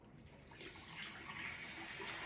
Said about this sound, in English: Let's pour in our water.